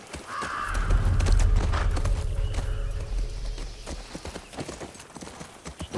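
Horse hooves clip-clop in The Last of Us Part II video game, a steady run of close hoofbeats with a brief whinny, loud and clear with no talking over it.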